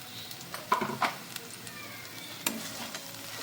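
Stirring brinjal bharta (mashed eggplant) in oil in a pan: soft scraping strokes and a gentle sizzle, with a few sharper clicks of the spoon against the pan, close and fairly quiet.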